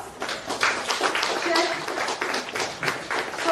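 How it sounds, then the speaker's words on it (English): An audience at a Teacher's Day event at St. Mother Theresa University claps steadily throughout, a dense wash of applause that stays even in loudness. "Give her a big round of applause."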